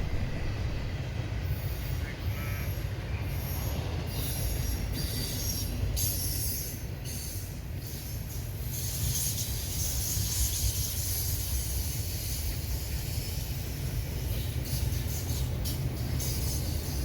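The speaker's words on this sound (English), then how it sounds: "this is a mixed freight or a manifest train, as you want to call it, it's predominantly intermodal" A mixed freight manifest train, mostly intermodal cars, rolls past steadily for the whole stretch, with a continuous low rumble of wheels on rail, repeated high wheel squeals, and a constant hiss.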